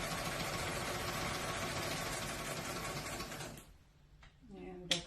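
A sewing machine hums steadily while backstitching a centered zipper seam in a garment, running at a close, even whir for several seconds before stopping, followed by a brief quiet stretch and a small clatter.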